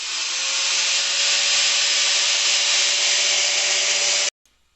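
Loud continuous grinding screech from an angle grinder cutting through a strong metal support bracket for a double sink vanity, steady and close, stopping abruptly near the end.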